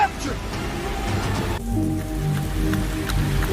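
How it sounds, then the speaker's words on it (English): Steady rain falling outside on a cold 44-degree day, a continuous close patter and hiss on surfaces that holds evenly throughout, with a faint voice murmuring underneath. "It's 44 degrees and it's nice and rainy outside"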